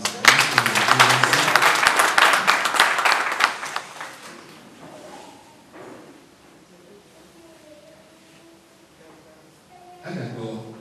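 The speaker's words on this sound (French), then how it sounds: "il mérite encore beaucoup plus d'applaudissements" At a book launch in Cotonou, the audience breaks into loud clapping that fades after about four seconds, leaving a quieter room with a few stray sounds and a brief burst of noise near the end.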